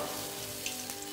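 Sauce sizzling gently in a pan for American chop suey, a soft continuous fry with faint stirring taps, fairly quiet and close, no talking.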